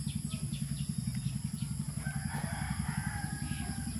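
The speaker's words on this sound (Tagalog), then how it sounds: "Makinig ka sa kapaligiran ng mga ibon." Rooster crowing and chicken clucking fill a morning outdoor setting among fruit trees and flowers, moderately distant, over a steady rhythmic pulsing drone from insects or machinery, with no talking.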